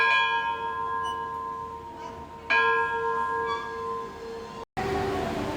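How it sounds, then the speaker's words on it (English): A steam locomotive's engine bell at a railroad museum rings out in clear, metallic strikes that linger, with a fresh strike partway through and a sudden cutoff near the end. "Steam engine bell."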